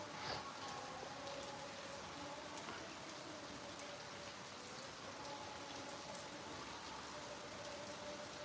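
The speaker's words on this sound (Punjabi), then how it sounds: "ਬਾਰਿਸ਼ ਹੈ ਜਿਹੜੀ ਉਹ ਹੋ ਰਹੀ ਹੈ" Steady rain pours down continuously, a dense even hiss with scattered drop patters, no voices, holding level throughout.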